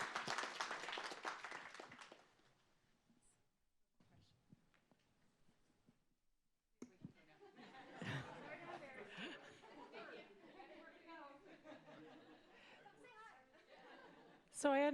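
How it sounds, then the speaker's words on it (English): An indoor audience at a town center open house bursts into brief, loud applause, which fades into quiet murmuring. Crowd chatter and scattered laughter then build up, with people talking throughout. "So a big round of applause to this team because they're amazing."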